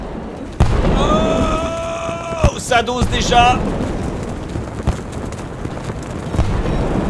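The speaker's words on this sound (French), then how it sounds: "les explosions sont ahurissantes" Loud, bursting explosions from a battle in the video game Totally Accurate Battle Simulator, mixed with whistling tones and heavy rumble while someone talks excitedly over them.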